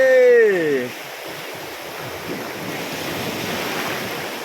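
Steady wash of surf breaking on Chao Lao beach in Chanthaburi, Thailand, with wind buffeting the microphone; a brief voice-like tone at the start before the waves dominate.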